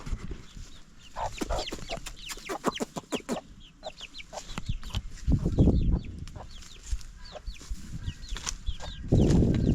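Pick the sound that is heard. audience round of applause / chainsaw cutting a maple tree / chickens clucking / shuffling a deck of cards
chickens clucking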